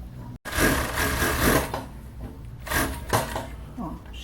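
A home sewing machine runs stitches along the lining of a plus-size swimsuit in a quick, steady mechanical whir with a brief stop near the start and short bursts after, loud and close.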